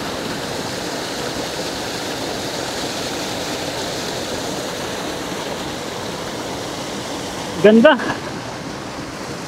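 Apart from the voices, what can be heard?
river water flowing near Paliguang Aso Dam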